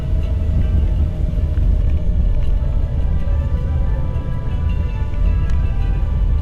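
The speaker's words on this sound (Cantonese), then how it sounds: "而家香港呢個拉力賽嘅賽車啊，一路上緊山啦" Hong Kong rally race cars climb a mountain road through a bamboo forest scenic area, including an Isuzu Gemini, with a steady low engine rumble and road noise throughout, no voices.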